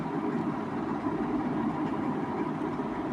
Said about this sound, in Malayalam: ഞാൻ സ്റ്റെയർ ഇറങ്ങിക്കൊണ്ടിരിക്കുമ്പോൾ കണ്ട കാഴ്ചയാണ് വേറൊരു ട്രെയിൻ പോവുകയാണ്.